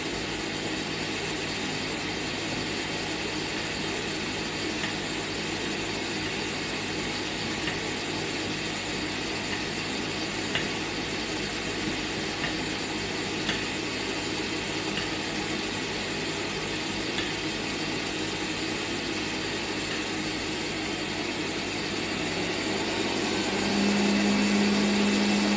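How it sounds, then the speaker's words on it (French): An electric mixer or processor blends icing sugar with almond powder for a pear caramel entremets, a steady continuous whirring drone that holds for the whole stretch and swells slightly near the end. "je vais mélanger le sucre glace avec la poudre d'amande"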